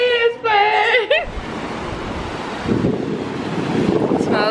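Beach at a Playa del Carmen resort in Mexico, with ocean surf washing in and steady wind buffeting the microphone; a voice speaks briefly at the start before waves and wind roar on alone, swelling later.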